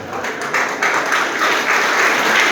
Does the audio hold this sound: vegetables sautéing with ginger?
no